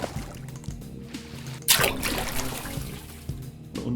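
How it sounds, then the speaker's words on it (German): Water splash sound effect from a sound effects library, a sharp burst of splashing about midway, with quieter liquid trickles and sloshing around it over faint background music. "Splashes."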